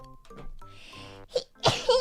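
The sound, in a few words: sneeze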